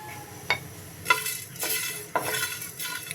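Whole spices for a raw banana curry are fried in a pan, with a few sharp clinks and scrapes of a spoon stirring against the metal over a soft sizzle.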